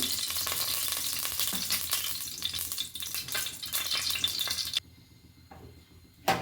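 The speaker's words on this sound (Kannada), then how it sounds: "ಈಗ ಎಣ್ಣೆ ಬಿಸಿ ಆದಮೇಲೆ ಸೋಂಪು, ಜೀರಿಗೆ, ಸಾಸಿವೆ ಎಲ್ಲ ಒಟ್ಟಿಗೆ ಹಾಕ್ತಾಯಿದ್ದೀನಿ" Fennel, cumin and mustard seeds temper in hot oil in a pressure cooker, making a loud, close, crackling sizzle that drops away sharply near the end before a final brief burst.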